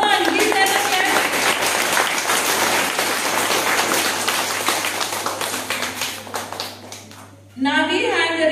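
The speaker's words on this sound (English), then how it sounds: "Give them a clap." School audience applauding the singing competition winners, a loud sustained burst of clapping from many hands that ends abruptly, followed by a voice speaking.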